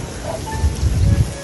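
Rain falls on a fishpond farm in a dense, steady hiss of drops, fairly loud and close, with no voices.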